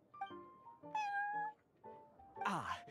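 Prince the cat in the game Genshin Impact meows several times in a row, clear and close, with short pauses, the final meow louder and rougher.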